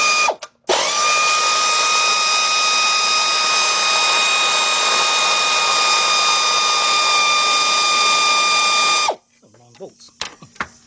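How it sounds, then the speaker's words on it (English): A 3/8-inch drive air ratchet with a 13mm deep socket spins steadily and loudly for about eight seconds, backing out a long bolt during rack and pinion replacement on a 2001-2005 Cadillac DeVille, then cuts off to quiet shop noise. "My 3/8 drive air ratchet."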